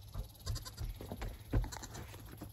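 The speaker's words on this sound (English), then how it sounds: "I'm going to let the goats out to play for a little bit." Goats on a hobby farm bleat in a quick series of short calls. The cries overlap over low rumbling background noise with no talk.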